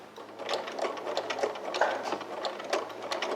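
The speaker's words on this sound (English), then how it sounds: "Make sure you drop your foot, and then take your first stitch." A sewing machine stitches through fabric in a steady run of rapid mechanical pulses, close and fairly loud, with no talking.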